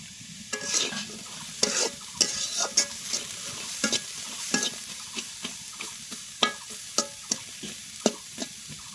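Onions frying in oil in a pan for a Bengali tengra fish curry, with a steady sizzle under repeated sharp scrapes of a spatula stirring at an irregular, fairly quick pace, close and clear with no talking.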